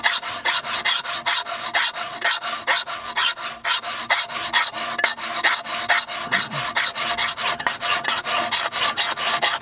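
A hand file works the bit of a Husqvarna forest axe in steady, even strokes, each rasping pass close and loud, repeating in a regular back-and-forth rhythm with no talking.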